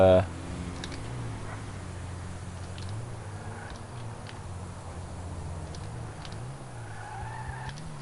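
Car tyres skid in the video game GTA V over a steady, droning engine hum, with a few faint clicks scattered through the clip.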